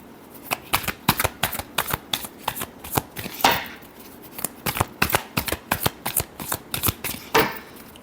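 Tarot cards being shuffled in a quick run of crisp riffling snaps and flutters, close and fairly loud, with a couple of bigger bursts where the deck bridges together; no one speaks.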